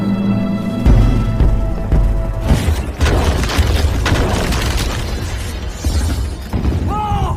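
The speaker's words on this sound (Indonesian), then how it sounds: "terdengar ledakan dari luar." A loud, deep boom of an explosion outside, part of a Chinese period action film, rumbling and crackling with debris for several seconds amid a dramatic musical score.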